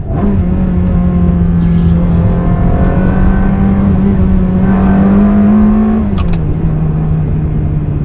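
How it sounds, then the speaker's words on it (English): A Ferrari 360 Spider with a gated manual gearbox drones loud and close at steady revs inside the cabin, then the engine note dips briefly around a downshift before settling again. "Oof, there's nothing like downshifting a gated manual."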